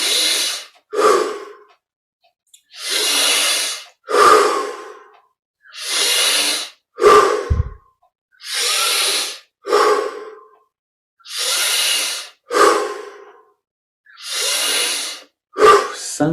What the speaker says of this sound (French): On augmente l'amplitude des respires.